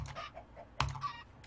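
Chickens in Minecraft, from the Better Than Wolves mod, give quiet game clucks, with one sharper louder cluck in the middle over faint background sounds.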